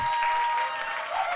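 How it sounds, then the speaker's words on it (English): Applause from a crowd at a masterclass event, a steady dense wash of clapping that runs the whole moment at moderate loudness, with a steady tone sitting underneath. "let us shock him with a round of applause, please"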